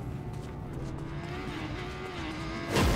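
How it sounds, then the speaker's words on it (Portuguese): A Fortnite motorcycle engine hums with a steady tone that wavers in pitch, fairly faint, ending in a sudden louder burst. "Estou ouvindo uma moto."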